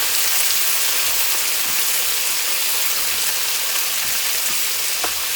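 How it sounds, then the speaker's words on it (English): Butter sizzles on a hot sizzler plate holding Indo-Chinese chicken, giving a steady, close hiss of frying with a few small pops and crackles, with no voices. "Add tiny bit of butter just for that additional sizzling."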